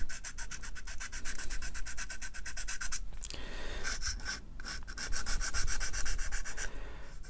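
Sandpaper rubs back and forth on a plastic panel from a Tamiya 1/6 Honda CRF1000L Africa Twin model kit in quick, close, rhythmic strokes, with a brief pause partway through before the scratching resumes.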